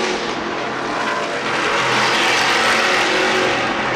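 A race car engine at full throttle during the Long Beach race roars in a loud, steady, broadband wail that swells slightly midway, with no voices.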